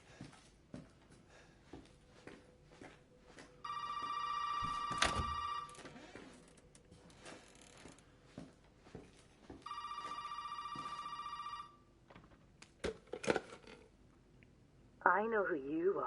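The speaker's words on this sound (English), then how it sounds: "The phone's ringing." Telephone bell in the Resident Evil 7 demo rings in two long electronic bursts of about two seconds each, loud and sustained, separated by quieter footsteps and game ambience, with a brief warbling tone near the end.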